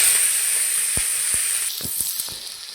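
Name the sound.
frying onion and green chilli in oil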